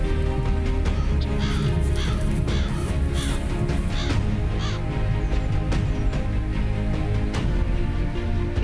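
A huge flock of crows gathers in the evening in Beijing, countless overlapping caws rising repeatedly over a constant background roar.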